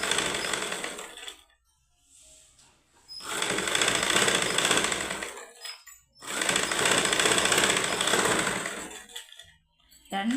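A sewing machine stitching a blouse patta runs in two long, loud, steady bursts of rapid mechanical chatter, separated by short pauses and a brief softer run at the start.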